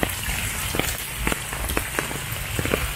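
Rain keeps falling steadily, not hard, over a garden plot in the Philippines, a dense even patter on surfaces with scattered close drops ticking through it.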